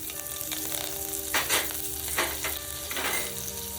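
Mustard seeds, cumin and curry leaves for a Maharashtrian buttermilk kadhi hit hot oil, a loud close crackling sizzle with bursts of popping spatter over a steady hiss, no talking.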